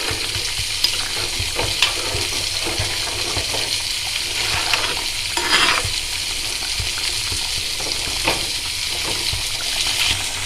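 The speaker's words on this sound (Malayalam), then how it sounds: "നമുക്കിനി ഇത് നല്ലതുപോലെ ഇളക്കി കൊടുത്തു ഉപ്പും പുളിയും നോക്കാം" Tuna fish curry stirred in a pan, a steady close sizzle with repeated scraping and clinks of the spoon, no talking.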